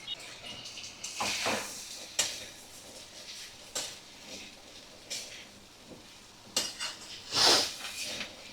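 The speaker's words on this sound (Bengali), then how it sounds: "এবার দেখো, আমি সিদ্ধ করা কাবলি ছোলাগুলো দিয়ে দিলাম" Boiled chickpeas tipped into a pan of chicken curry, giving scattered clatters and soft thuds, a brief sizzling hiss, and a spoon knocking on the pan, all fairly close.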